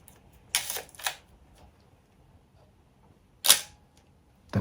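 Nikon camera shutter firing several times, sharp close mechanical clicks with whirring follow-through, one pair in quick succession, then a single loud snap and another starting at the end, against a quiet room.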